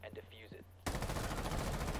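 A short spoken phrase over a low hum gives way to sudden, loud, rapid video game gunfire that keeps going as a dense automatic burst.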